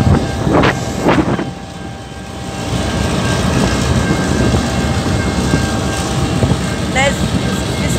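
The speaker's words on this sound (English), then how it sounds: "This one's a six carriage metro train, Xtrapolis." A six-carriage Xtrapolis metro train pulls in at the Alstom works in Ballarat, a steady low rumble with wind buffeting the microphone, a couple of brief knocks early on and a short squeal near the end.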